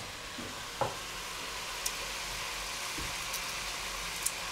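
Carrots, chili and a piece of seasoning drop into a pot of mafé that sizzles steadily, with a soft splash and a few faint clinks of a utensil over the constant frying hiss. No one speaks.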